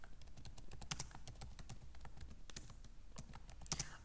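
Rapid keystrokes on a computer keyboard, a steady run of close, crisp clicks with a few louder key taps, heard alone without talking.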